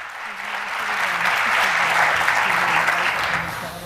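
Loud, full audience applause at an evening celebration event, swelling to a dense roar of clapping through the middle and easing slightly at the end, with faint voices or music underneath.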